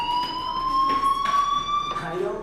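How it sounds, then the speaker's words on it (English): A fire alarm rings steadily inside the video game Life Is Strange, its sustained tone holding throughout under indistinct background voices. "Hey, do you hear that fire alarm?"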